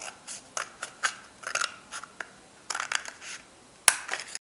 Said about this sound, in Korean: 휴지심을 반으로 잘라주세요.